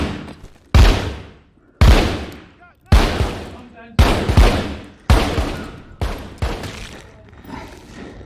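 Gunfire in The Walking Dead: Saints & Sinners, seven loud, booming shots spaced about a second apart, each ringing out with a long decaying tail.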